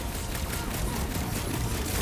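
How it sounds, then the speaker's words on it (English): Video game gunfight in Guardians of the Galaxy near a reactor core, a dense continuous burst of gunfire and noise, fairly quiet and unbroken throughout. "Who starts a gunfight near a reactor core?"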